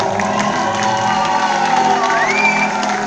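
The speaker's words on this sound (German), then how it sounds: "einen riesengroßen Applaus für diese wunderschöne Komposition" Audience at a cinema event cheering and applauding after a musical composition, a dense steady wash of clapping, whoops and shouts holding loud for the whole stretch.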